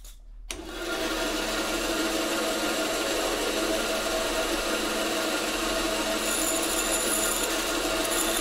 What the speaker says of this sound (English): the final bit of profile cutting I'll do is just to trim off this section.